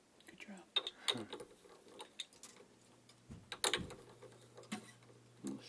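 An acoustic guitar string is wound onto its tuning peg, giving quiet, close clicking and ticking in irregular bursts, with a low steady hum underneath.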